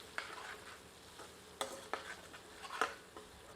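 Whole dried red chillies fry in a pan with onions over medium heat, giving a faint, steady sizzle punctuated by a few soft stirring scrapes and clicks, with no voices.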